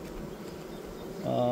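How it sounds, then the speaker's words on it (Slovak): Honeybees from a swarmed colony buzz densely around a hive frame as the bees are shaken off it, a steady close hum that swells louder near the end. "Takže včely ešte strasiem z rámika."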